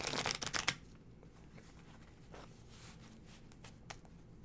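Tarot cards shuffled briskly by hand, with a dense flurry of riffling at the start and then quieter, steady shuffling and soft card handling, no voices.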